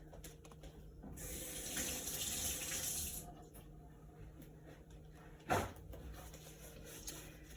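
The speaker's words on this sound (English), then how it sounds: "Wash my hands." Hands washed under a running kitchen tap, a steady soft splash of water for a couple of seconds, then quieter flow and a brief sharp knock near the end, close and fairly quiet, no talking.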